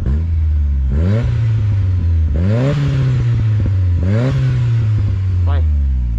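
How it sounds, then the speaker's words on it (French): A car engine revs up and eases off several times, close by, with a brief rising turbocharger pressure whistle near the end. "c'est le bruit de pression du turbo qu'on entend devant."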